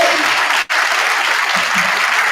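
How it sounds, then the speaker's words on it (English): Steady, loud audience applause at a scholarship program honoring a speaker, continuous crowd clapping with one brief break partway through. "I'll give her another hand"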